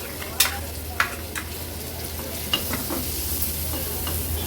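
Ground chutney being stir-fried in oil for an Agri-Koli style fish thali, with a few sharp spatula scrapes against the pan over a steady, low sizzle; no voices.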